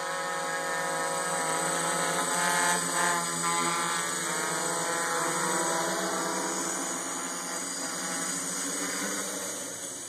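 A hexacopter drone with an i86 controller hovering at night over a front yard, its rotors giving a loud, steady buzzing whine with layered tones that swells slightly and then eases as it holds position.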